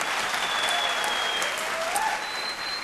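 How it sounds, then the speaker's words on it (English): A studio audience at a televised singing competition gives a loud, dense round of applause and cheering, sustained at full level for a few seconds with a faint tone running through it. "ladies and gentlemen, one final round of applause,"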